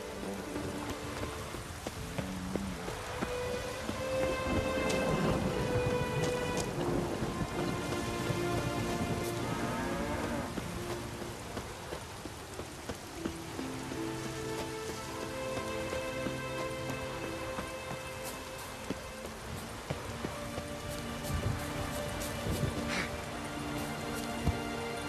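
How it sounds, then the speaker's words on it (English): Heavy rain pours in The Witcher 3, a steady loud hiss with distant thunder rumbling beneath, and layered game music and ambience throughout. "Rain in fucking buckets."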